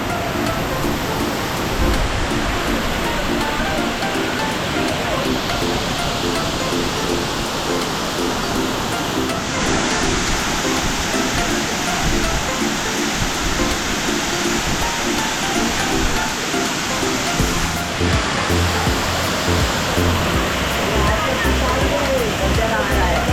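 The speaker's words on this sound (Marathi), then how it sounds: "ह्यो हा तळवड्यातलो नावनकोंड धबधबो बघ कसो मस्त वाटतं" Navankond waterfall at Talavade roars in a steady, loud, broadband rush that runs throughout, with nearby people talking over it.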